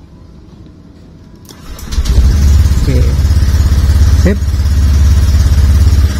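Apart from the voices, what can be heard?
motorcycle engine starting after ECU remap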